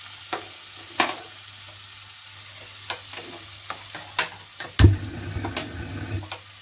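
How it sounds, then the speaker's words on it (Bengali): Onion and potato frying together in a pan, a low, quiet sizzle under scattered scraping and clicking strokes of a spatula, close by with no talking. "এখন এখানে আমি পেঁয়াজ আর আলুটা একসঙ্গে দিয়ে দিচ্ছি। একটু আমি এটাকে একটু ভেজে নেব।"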